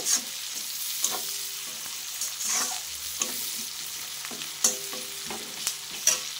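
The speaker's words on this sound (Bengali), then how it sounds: "তো পেঁয়াজটা একটু ভালো করে ভেজে নেব" Onions frying in a pan for a fish curry cooked without potatoes, a continuous close sizzle with repeated scraping and clinking strokes of a spatula stirring them, no talk.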